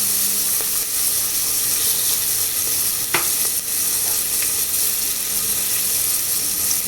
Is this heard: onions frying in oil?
yes